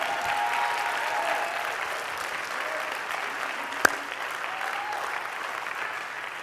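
Steady, dense applause from a crowd at a governor's town hall in Atlantic City, even and sustained at moderate loudness with one sharp louder clap standing out midway.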